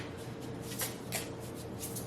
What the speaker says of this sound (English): It's like kind of hard to shuffle.